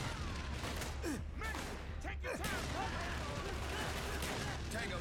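Gunfire in Call of Duty: Black Ops, continuous loud game action with rattling shots and crashes over a dense rumbling background.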